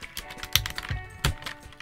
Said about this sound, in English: Let's take a look underneath these keycaps and see what we've got.